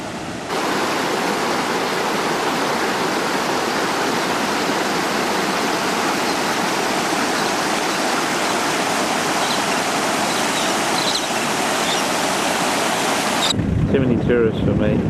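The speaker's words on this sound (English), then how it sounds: "Fair bit of water going over the edge." Floodwater pours over the edge of the Cooper Creek crossing north of Innamincka as a loud, steady, broadband rush that fills the whole stretch with waterfall-like roar and wind buffeting. It drops away abruptly just before the end.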